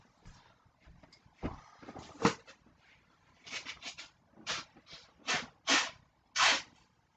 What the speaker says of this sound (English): I'm going to take a little pause here to blow my nose